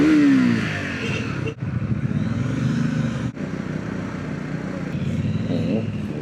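A Triumph 400X Scrambler motorcycle is ridden on the road. The engine note is steady and close, rising in pitch as the bike pulls, under strong wind rush, with two brief dropouts.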